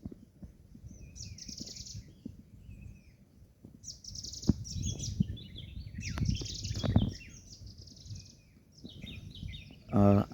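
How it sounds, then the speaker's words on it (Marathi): Several birds chirp and call at moderate distance, scattered bursts of song over a low outdoor rumble, with a brief louder knock near the end. "पक्ष्यांचे आवाज पण आहेत वेगवेगळ्या प्रकारचे"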